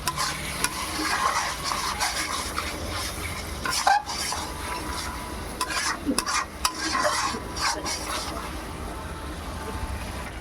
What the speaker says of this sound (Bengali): চিকেন দেখুন কষানো হচ্ছে কত, প্রায় 20 মিনিট ধরে চিকেনটা কষানো হবে